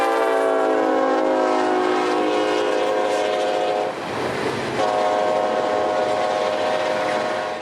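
A southbound freight train of ethanol tank cars on the S-line sounds a loud, sustained horn close by over a steady rolling rumble. The horn breaks briefly partway through, then resumes.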